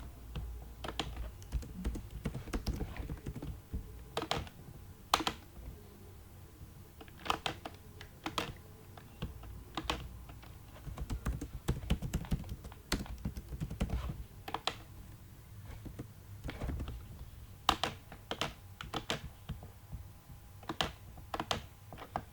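HTML code being typed on a computer keyboard: sharp irregular key clicks arrive in quick bursts and scattered single taps, close and clear with no speech.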